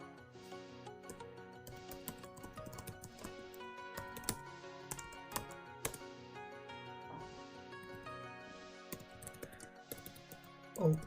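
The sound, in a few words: typing email and password on a computer keyboard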